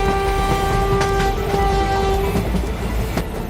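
An animated train approaching on a railway track, a loud sustained horn over a heavy rumbling roar and rhythmic clatter, close and continuous with no speech.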